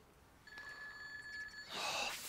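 Telephone ringing in the video game GTA 2, a faint electronic trill pulsing rapidly for about a second, then a brighter burst of noise, quiet and alone without talk.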